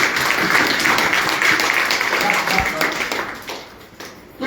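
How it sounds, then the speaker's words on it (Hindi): Loud applause fills a seminar hall, a thick wash of many hands clapping that holds strong before gradually thinning toward the end, with some voices mixed in. "एक बार जोरदार ताली होना चाहिए।"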